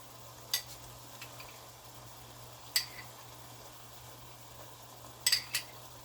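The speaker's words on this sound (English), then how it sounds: "I'll let that simmer down. Move the shrimps around." Shrimp fajitas with chipotle and fajita sauce simmer in a pan, a faint steady sizzle under a low hum, with a few crisp scrapes of a utensil stirring the shrimp at scattered moments.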